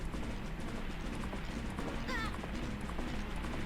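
Epona the horse galloping in the video game Majora's Mask: rapid, steady clip-clop hoofbeats under game music and ambience, with a brief shrill sound midway, at a moderate level throughout.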